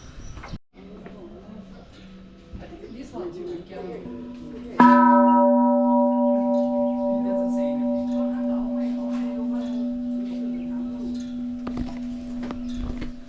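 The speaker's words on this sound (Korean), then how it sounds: "종이 울리니까 느낌 좋네요" A temple bell at Doi Suthep temple in Chiang Mai, Thailand, is struck once and rings out with a deep, sustained hum that slowly fades, after some quiet talk and shuffling.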